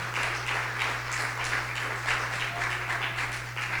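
A congregation applauds during a Spanish-language evangelical church service, a steady, dense wash of clapping that holds evenly for the whole stretch with no talking over it.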